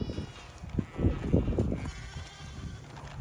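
Sheep bleat on a farm during lambing season, with several loud, close bleats clustered in the middle and quieter calls before and after; no one speaks.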